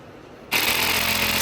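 After a brief quiet moment, a power drill suddenly starts up and runs with a loud, steady, high-pitched whir, drilling holes into a wall for a TV mount.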